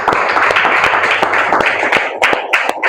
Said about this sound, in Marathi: प्रभूसाठी आपण टाळ्या वाजवू.